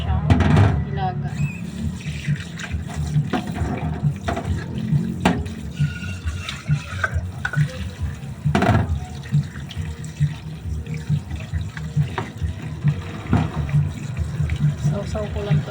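A running kitchen tap while food is washed under it: steady splashing water rushes continuously, with clattering handling noises and occasional louder knocks.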